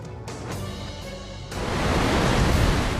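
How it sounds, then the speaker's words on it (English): Big swells up to seven meters pound the coastline of Chile during extreme weather, a continuous broad roar of crashing surf and wind that builds louder after a brief lull, with no voices. "Waves as high as 7 meters pounded homes and businesses on Chile's coastline"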